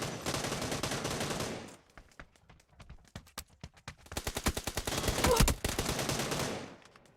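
Enemy gunfire in PUBG comes in sustained automatic bursts, with rapid sharp shots in long runs. A quieter stretch of single cracks falls in the middle.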